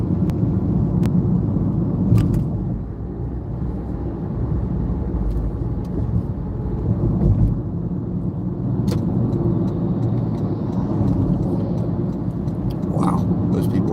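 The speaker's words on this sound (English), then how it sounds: "wow, those people are driving really fast" Cars speeding past on a road, heard as a steady loud traffic rumble and whoosh from inside a vehicle with no clear separate passes.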